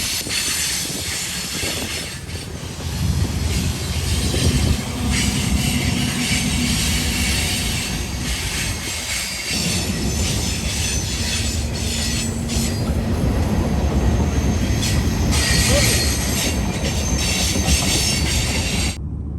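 A freight train with a mid-train ES-44AH DPU rolls past close by, a loud continuous rumble of railcars with rhythmic wheel clatter and high metallic squeal throughout.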